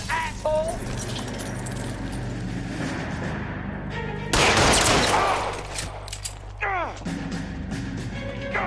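Heavy, continuous gunfire in a shootout from the crime video game L.A. Noire on PS4, a loud burst of shots in the middle over a steady game backdrop.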